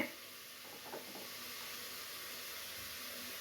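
Bajji batter fries in hot oil with a continuous, even sizzling hiss, soft and steady, plus a faint clink of a utensil early on.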